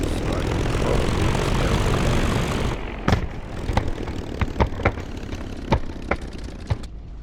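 A Spitfire LF IX piston engine in the DCS flight simulator drones loudly and steadily, then drops to a quieter running tone broken by sharp clicks and knocks.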